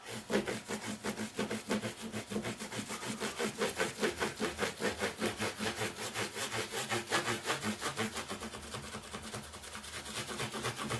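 Nickel and brass frets on a Gibson Les Paul guitar being sanded with 8000 grit abrasive, a close, rhythmic back-and-forth rubbing in steady even strokes throughout, with no talking.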